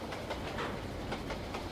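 A live steam mogul locomotive labors to pull a heavily loaded train, its steady rumbling chuff and rail clatter continuous and close, with soft repeating pulses and no voices.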